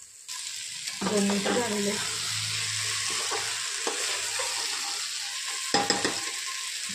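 Ingredients for khichdi sautéing in a pan, a steady sizzle with metallic stirring and scraping, a brief spoken remark partway through.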